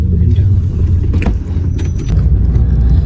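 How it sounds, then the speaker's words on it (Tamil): Family car pulling away on a sunny holiday trip, a loud steady engine rumble close by with brief rattles and clunks midway, voices faintly mixed in. "இப்போ எங்களோட வண்டி வெளிக்கிட்டது."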